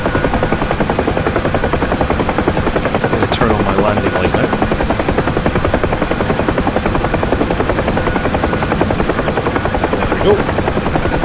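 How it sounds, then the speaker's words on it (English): A UH-1 Huey helicopter in the DCS flight simulator hums with a loud, constant turbine whine and rapid rotor chop throughout, while someone talks over the engine noise. "So it's all very complicated flying a helicopter."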